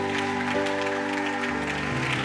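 A church congregation applauds and acclaims Jesus during a sermon, a brief burst of clapping over steady sustained organ or keyboard chords that shift pitch, without any talking.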